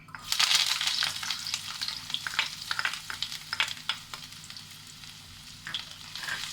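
Chopped vegetables, added for an egg bonda filling, crackle and sizzle loudly in hot coconut oil in a heated pan, with bursts of spattering and stirring scrapes that slowly settle to a steadier fry, with no talking.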